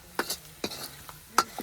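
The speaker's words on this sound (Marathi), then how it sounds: "सगळा मसाला तेलात तळून घ्यायचा छानपैकी." Spice masala of garam masala, red chilli powder and onion paste being stirred and fried in oil in an iron kadhai, heard as a few sharp scraping stirs at a steady pace over a faint, close sizzle.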